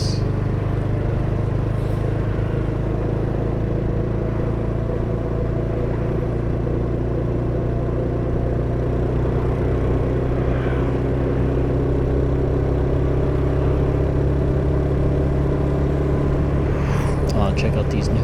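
Motorbike engine droning steadily with low rumble while riding through an evening street toward the sunset, a continuous near hum with faint passing traffic and no pauses.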